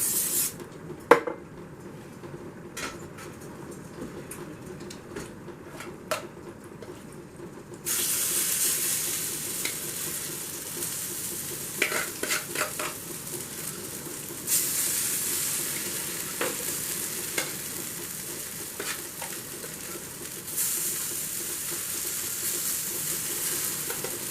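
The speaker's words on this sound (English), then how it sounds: "Let them fry for a little while." Potato cakes fry in a pan with a steady, close sizzle that grows louder partway through, broken by occasional small clicks and taps.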